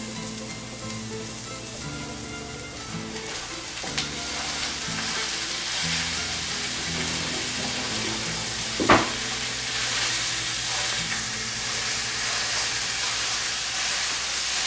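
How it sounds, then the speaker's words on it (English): Ground beef sizzles with sautéed onions in a pan, a steady, close, loud frying hiss throughout with one sharp clack midway and faint music underneath. "Nothing like sauteing onions. I'm going to go ahead and add our ground beef."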